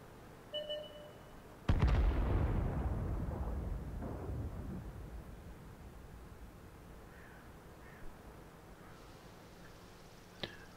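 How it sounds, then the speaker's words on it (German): A loud, close cannon shot with a long rumbling decay, followed by a few faint distant pops and a sharp crack near the end, from gunfire in the World of Tanks tank game. "Ich wundere mich, wo die Schüsse herkamen"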